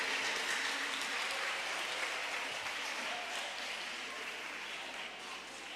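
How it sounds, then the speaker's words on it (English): An audience claps steadily for school contestants at a science and maths quiz competition, a dense sustained wash of many hands that fades slightly toward the end. "Clap for them. Give them all."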